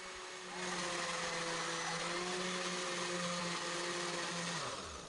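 A kitchen blender grinds a tomato mixture for Mexican red rice, a loud steady motor whir held for several seconds before it cuts off.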